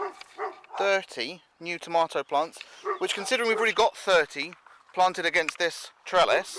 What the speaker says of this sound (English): also excuse the dogs going mental